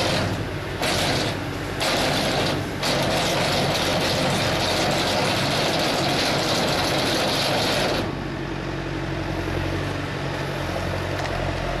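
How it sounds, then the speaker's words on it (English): A tractor-driven hay bale feeder runs steadily nearby, a continuous mechanical churn with creaking and low engine drone, which drops slightly in intensity after several seconds. "As you see the machine having a larger feed outside, the tractor can be further away from the feed pad,"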